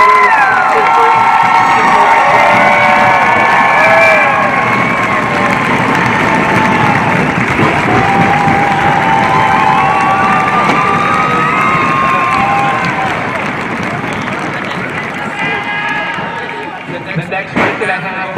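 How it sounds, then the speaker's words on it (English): At a high school senior awards night, a large crowd applauds and cheers loudly and continuously with shouts and whoops, then slowly fades toward the end. "let's give one more round of applause to the largest class in North Carolina history"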